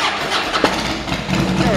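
Harley-Davidson Heritage Softail, a fuel-injected motorcycle with aftermarket pipes, cranks and catches, its engine sound rising steadily and close over a brief start attempt, with no talk over it.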